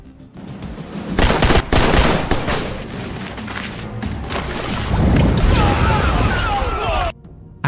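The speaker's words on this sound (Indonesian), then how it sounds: "Sampai pasukan Warriors pun mulai bergerak, dan melakukan penyerangan terhadap tentara bayaran yang dipimpin oleh Tomcat itu" Gunfire rages through a film battle scene as a special forces squad attacks mercenaries: dense, loud rapid-fire bursts and crashing impacts run almost continuously, then cut off abruptly near the end.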